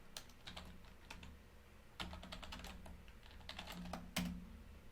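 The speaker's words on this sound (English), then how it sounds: "If I can type." Typing on a computer keyboard: quick irregular clusters of close, crisp key clicks, faint and without speech.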